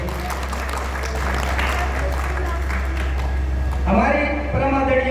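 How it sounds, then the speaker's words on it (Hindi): Applause from an audience at a Hindi poetry gathering for honoured teachers, a steady wash of clapping throughout with a low background hum and a voice briefly rising over it near the end. "एक बार हमारे गुरुजनों के लिए तालियां बजा दीजिए।"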